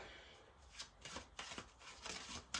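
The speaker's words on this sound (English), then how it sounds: "I'm going to shuffle again" Tarot cards being shuffled by hand, a series of quiet close riffling and sliding bursts spaced irregularly across a few seconds, with no talking.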